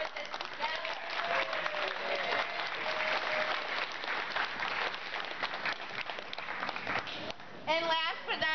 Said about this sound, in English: let's give a big round of applause to the Access of Love volunteers that put this together